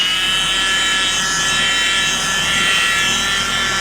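A cordless 25mm polisher runs at speed 4 on a car's painted panel, removing sanding marks in overlapping passes, giving a steady high-pitched whir with a low motor hum close by and no talk.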